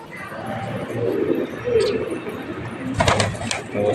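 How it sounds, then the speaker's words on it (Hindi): Pigeons coo in soft, low phrases close by, with a few sharp knocks or wing sounds near the end. "आप भी देख रहे होंगे कबूतरों को"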